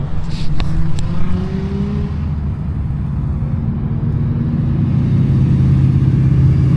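A Subaru BRZ driving at a track, a loud sustained engine drone with rising revs, heard up close over steady outdoor noise.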